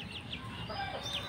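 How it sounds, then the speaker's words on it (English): Burmese chickens on a farm in Yogyakarta, Indonesia, giving several short clucks and calls against a steady background of farmyard noise. "This is a sort of my chicken farm here in Yogyakarta."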